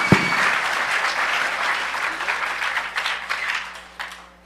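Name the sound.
audience applause for a speaker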